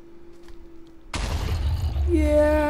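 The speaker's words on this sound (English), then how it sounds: "Grenade out!" A grenade goes off in a Minecraft game running the CrackPack modpack: after a quiet lead-in comes a sudden loud burst at close range that rolls into a rumble, with excited voices talking over it.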